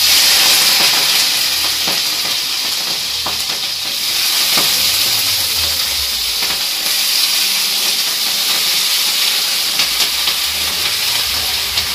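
Food fries in a home kitchen pan with a steady, fairly loud sizzle and hiss, dotted with light clinks and stirring scrapes. No one talks.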